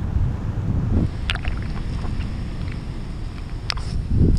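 Strong, steady wind blows across the microphone outdoors in Florida as a continuous low roar with gusts near the start and end, broken by a couple of faint clicks.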